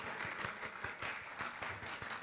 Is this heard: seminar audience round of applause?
yes